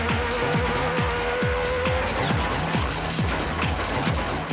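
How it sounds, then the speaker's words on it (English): A Nissan Navara 4-litre race truck growls along rapidly in an off-road race, its engine revving in rhythmic rising surges under a loud, rough, continuous roar. "SB Nissan Navara 4-litre growled along pretty rapidly"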